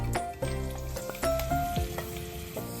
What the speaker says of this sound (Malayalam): എണ്ണ ഒന്ന് ചൂടായതിനു ശേഷം നമുക്ക് നമ്മളുടെ ഐറ്റംസ് ഒക്കെ ഇട്ട് തുടങ്ങാം.